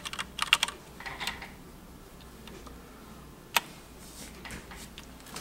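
A Logitech G610 computer keyboard is typed on: a quick cluster of crisp key clicks at the start, a few scattered taps, then one sharp isolated keystroke in an otherwise quiet room.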